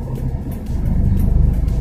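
A car idles on an uphill start as the clutch slowly engages, a low, close engine rumble that swells slightly and vibrates steadily, with no talk.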